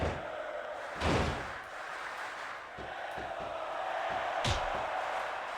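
In the WWE SmackDown vs Raw 2006 video game, a wrestler hits a DDT, producing several heavy thuds and impacts over a constant crowd roar.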